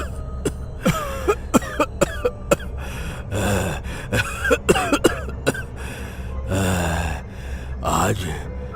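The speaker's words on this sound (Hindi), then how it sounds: "आज फिर से खांसी बहुत बढ़ गई है बेटी" An elderly man lying on a cot coughs repeatedly in harsh, rasping bursts, with gasps and groans between them, close up.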